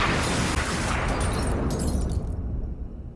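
A gunshot in a Sopranos TV episode, a loud broadband blast that fills the clip and then tails off into a fading rumble.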